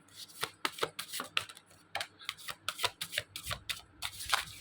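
Tarot cards shuffled and pulled from the deck, a quick run of crisp papery riffles and snaps at close range with no talking.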